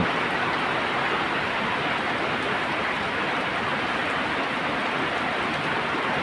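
Rain falls steadily in a dense, even hiss that holds at a constant moderate level throughout, with no voices or other sounds breaking through.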